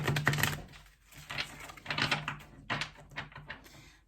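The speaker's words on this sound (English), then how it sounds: "So while I'm shuffling the deck" A deck of playing cards is shuffled close by in several rustling, riffling bursts with brief pauses between them, fairly quiet with no voices.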